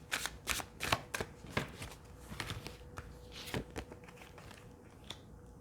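Tarot cards are shuffled by hand in a quick burst of crisp riffling flicks and slaps that thins to a few soft taps, close and quiet, without talking.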